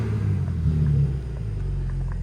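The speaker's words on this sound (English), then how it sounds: "I'll give it a rev." A BMW G80 M3 with its exhaust valves open idles with a deep, loud, close rumble that swells briefly in a short rev before settling back to a steady idle.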